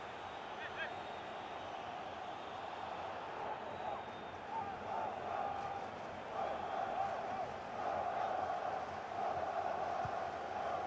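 The crowd at the Germany vs Japan 2022 FIFA World Cup match in Qatar keeps up a steady roar and chant, swelling in spots, while a commentator talks over it.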